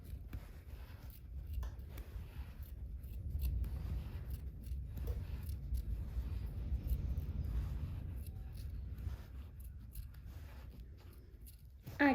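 Scissors snip fabric along a seam allowance on a Vogue sewing pattern, with soft, close cuts repeating quietly over low room rumble.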